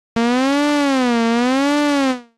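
A single sustained synth tone runs through Ableton Live 11's Chorus-Ensemble in vibrato mode, fully wet with the bass cut, its pitch wavering slowly up and down before fading out.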